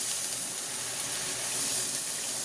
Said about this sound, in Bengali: হলুদ আর নুন গোলা জলটা ঢেলে দিলাম